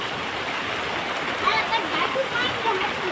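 Heavy rainwater pouring down in a steady, loud rush like a small waterfall, a continuous splashing roar close by.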